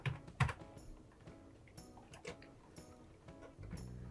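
A few quiet computer keyboard keystrokes tapping out a number, scattered clicks with a low hum underneath and no talking.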